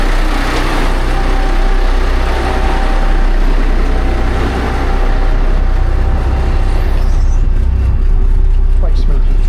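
Volvo TAMD 61A marine diesel boat engines rumble steadily at idle, a deep continuous drone with a constant low hum, close by and loud throughout.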